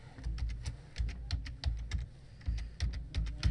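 Rapid clicking keystrokes on a computer keyboard while setting up a course in D2L, steady bursts of taps close to the mic with short pauses between runs, no voices.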